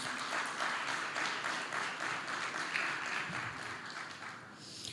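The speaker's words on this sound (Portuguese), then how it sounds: "Aplauda o nome do Senhor, queridos." A church congregation applauds steadily and fairly loudly throughout, a dense continuous clapping that eases off slightly near the end.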